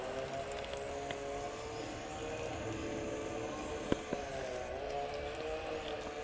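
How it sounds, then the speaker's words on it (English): Garden fountain running on sunny day, a soft continuous splash and trickle of water heard at moderate distance, steady and quiet with a couple of small knocks partway through. "That's the fountain going."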